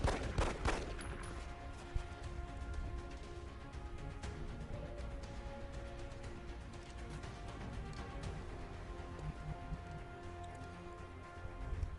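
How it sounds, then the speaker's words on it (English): Pistol gunfire in the XCOM: Enemy Within turn-based strategy game, with a sharp shot near the start and another around two seconds in, set against a busy, steady wash of game combat sound and music. "Go ahead and fire at him with your pistol."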